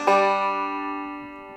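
A banjo sounds a bluesy modal lick, its bright plucked strings striking together and then ringing out as a sustained, slowly fading chord, close and clear with no talking.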